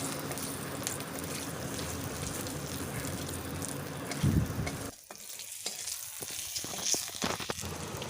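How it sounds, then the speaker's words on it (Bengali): Panch phoron and slit green chillies fry in oil with a dense, crackling sizzle that suddenly thins halfway through, followed by a few scraping stirs against the pan. "তেল দিয়ে ওতেই দিয়ে দেবো পাঁচ ফোড়ন আর চেরা কাঁচা লঙ্কা"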